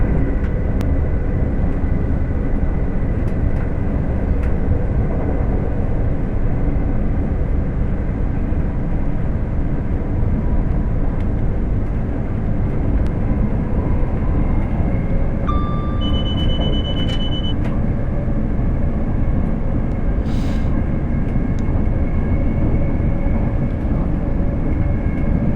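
A Class 802 train in Train Sim World 6 on the Riviera Line from Penzance to London Paddington runs with a constant loud rumble and motor drone, with a brief electronic cab tone partway through.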